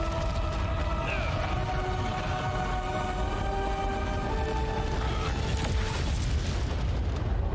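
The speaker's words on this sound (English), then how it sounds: "That's a big explosion." Big explosion in the fighting game Injustice 2, a heavy sustained rumbling boom with layered tonal effects and a final crackling burst near the end, loud and continuous throughout.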